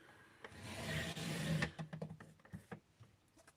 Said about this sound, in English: I do like cutting 2 inches by 1 inch because it sits really nice both sides of my trimmer.